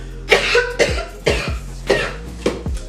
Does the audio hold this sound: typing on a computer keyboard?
no